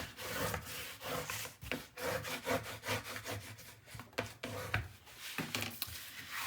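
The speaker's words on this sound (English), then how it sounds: "let's give all of that a really good burnish" A tool burnishes paper layers on an 8 x 8 mini album, making repeated scratchy rubbing strokes in an uneven back-and-forth rhythm. The sound is close and moderately quiet, with no voices.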